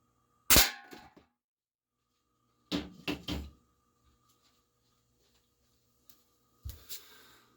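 Sharp cracks from a GameFace Stinger P311 airsoft pistol firing at cans: one near shot, then a quick cluster of three or four snaps with metallic hits, and a final shot after a pause, with no voices.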